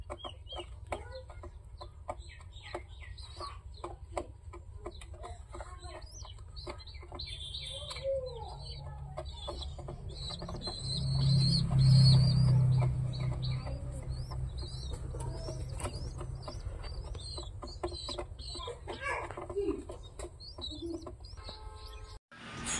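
Pigeons in a pigeon house with loft chicks and breeds such as white lakka: soft bird calls and wing rustles run throughout, with a louder low cooing swell midway and faint voices in the background.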